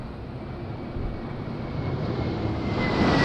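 An airplane landing at Madeira Island Airport in windy conditions gives a steady, rumbling engine roar that grows gradually louder over a few seconds, with wind noise and no voices.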